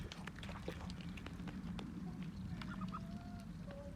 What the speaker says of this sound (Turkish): Bu videoda sadece Amerikan ördeklerimizi göstereceğiz.